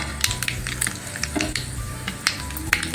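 Urad and chana dal frying in a pan of oil, a steady crackling sizzle broken by sharp pops and spatters, close and fairly loud with no talking.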